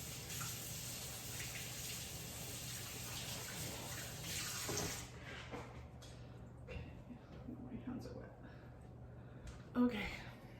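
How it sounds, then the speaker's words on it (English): Tap water runs steadily into a kitchen sink while zucchini are washed, a faint close hiss for about five seconds that gives way to quieter handling noises. "I'm going to wash my zucchini. Come over to the sink with me."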